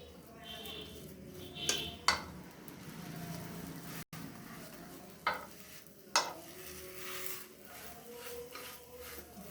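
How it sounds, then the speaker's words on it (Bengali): Patishapta crepe filled with coconut is flipped and fried in a pan, producing a soft steady sizzle with a few sharp clatters of utensil against pan and faint voice in the background. "নারকেলটা দিয়ে এটাকে উল্টাতে হবে এভাবে"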